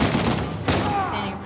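Gunfire in Uncharted 4: A Thief's End, a dense, noisy burst of shots with one sharper crack midway, all packed into a moment of constant loud game noise.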